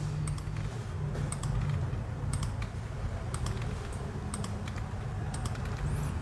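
Rapid typing on a computer keyboard while random values are entered into an online form, the key clicks coming in quick irregular bursts over a steady low hum.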